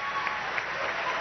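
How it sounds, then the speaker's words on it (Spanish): Crowd applause for an army general at an outdoor Venezuelan presidential public event, steady dense clapping sustained throughout with faint voices mixed in. "Quiero un aplauso para el general"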